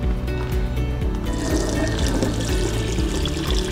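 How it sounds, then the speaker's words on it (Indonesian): Hands are washed under running tap water, with a steady splashing, gushing stream close by and uneven wet sounds from the hands rubbing in the flow. "sebaiknya kita mencuci tangan terlebih dahulu secara efektif 6 langkah di bawah air mengalir"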